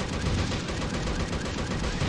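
Dense, continuous bursts of rapid gunfire in the video game Unkilled fill the whole stretch, loud and sustained with a faint voice underneath.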